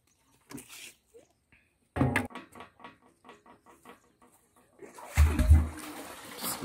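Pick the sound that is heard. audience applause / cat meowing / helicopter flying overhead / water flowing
water flowing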